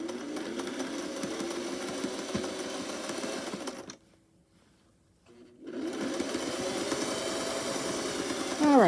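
A sewing machine runs steadily while stitching a fabric craft piece, stops for about a second and a half, then starts again, with a quick higher whir at the very end.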